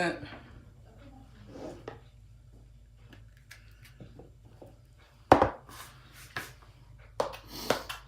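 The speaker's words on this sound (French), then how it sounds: "on coupe très fin" Knife chopping fresh mushrooms very finely on a board, a few sharp sparse cuts in short bursts near the end, with a person talking between them.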